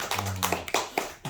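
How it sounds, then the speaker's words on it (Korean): Brief scattered clapping from a few people in a meeting, irregular claps spread over about a second, fairly close, with a faint low hum beneath. "박수 주죠"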